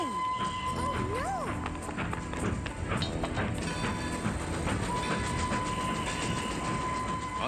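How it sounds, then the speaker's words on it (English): A cartoon train pulls out of a station, rolling along with steady rhythmic wheel clatter and a whistle tone, moderately loud throughout, with brief background voices. "The train is leaving."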